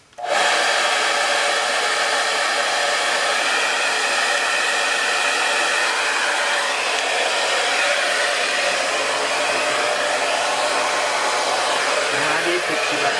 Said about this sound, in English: my new hair dryer is an InStyler.